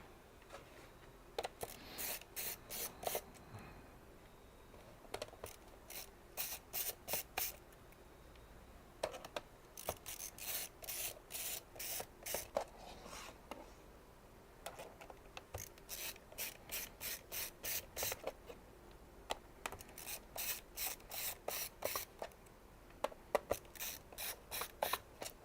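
A screwdriver works screws out of the underside of a PC component, with repeated quick bursts of fine ratcheting clicks separated by short pauses, close and faint over a quiet background hum.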